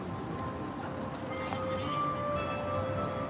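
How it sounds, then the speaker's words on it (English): Church bells ring from a nearby building in an old district of Syracuse, New York, by the Erie Canal: faint, sustained tones carry over a steady wash of outdoor background noise. "The bells are still going from the other building across this."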